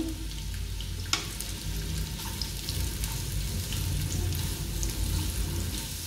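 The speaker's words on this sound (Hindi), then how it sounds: "इसी तेल में मैं गाजरें रोस्ट कर लेती हूँ।" Carrots roast in hot oil for Kabuli pulao, making a constant soft sizzle and hiss with a few faint pops and one sharp tap near the start, all without speech.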